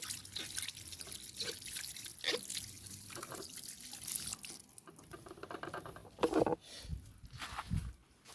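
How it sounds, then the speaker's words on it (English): Scallions are rinsed under a running kitchen tap, giving a steady splash of water with irregular drips and spatters, close and continuous for several seconds, no talking. "Now we'll get our scallion wash"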